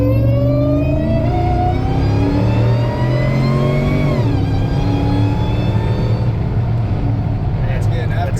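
A Demon-swapped 808 hp Jeep Gladiator accelerates hard, its engine loud and close with a rising, rasping roar that dips briefly at a gear change and then climbs again, while people talk over it.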